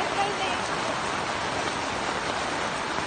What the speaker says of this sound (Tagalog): Baha na kami dito.